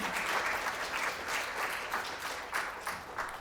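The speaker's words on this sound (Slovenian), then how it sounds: "Lahko še en aplavz" Steady applause fills a hall at a student awards ceremony, a dense crowd clapping evenly and continuously throughout with no break.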